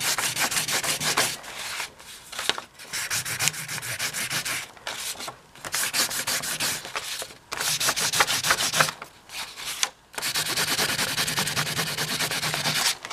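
Wax crayon or candle being rubbed hard across a sheet of paper, giving a loud, steady scratchy rasping in long back-and-forth strokes with brief pauses between bursts, close up and with no talking.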